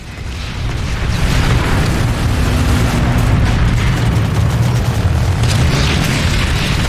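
A Prowler tank cannon fires in Planetside 2. The booms are loud and heavy and come through a dense, continuous rumble of mechanical noise, with no voices.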